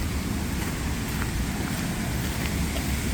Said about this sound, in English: So, I hear that roar in water.